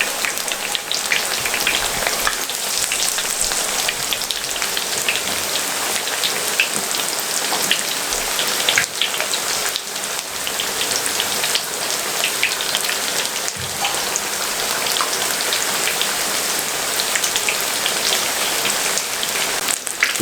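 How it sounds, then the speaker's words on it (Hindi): Eggplant and potato pakoras deep frying in a pot of hot oil, a dense, loud, continuous sizzle and crackle that holds steady throughout with no voices. "ये मैं सारे फ्राई कर लूँ"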